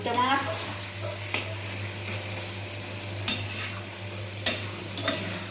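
Loitta, or Bombay duck, fries in a pan with a steady, close sizzle, while a spatula scrapes and taps against the metal now and then over a low background hum.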